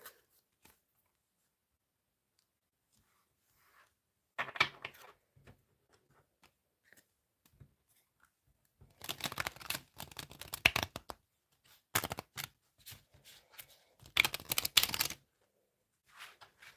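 Very thick tarot cards are shuffled by hand in several separate bursts of riffling, papery flutter and slapping, close and fairly loud, with quiet pauses between.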